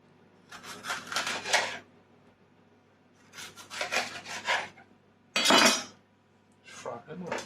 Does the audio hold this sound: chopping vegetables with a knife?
yes